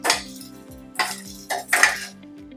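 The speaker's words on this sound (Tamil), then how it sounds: "இப்போ சீரகம் பொரிஞ்ச உடனே கொண்டைக்கடலையை சேர்த்து ஒரு மிக்ஸ் பண்ணி விட்டுக்கோங்க" Chickpeas tipped into cumin crackling in hot oil for Mumbai street-style channa chaat, then stirred: several close scraping, clattering strokes against the pan over a steady low hum.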